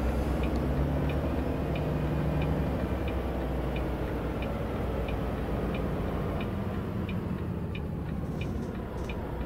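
Hazard lights on a truck in American Truck Simulator click in a steady, regular ticking rhythm over a constant low idling engine rumble inside the cab.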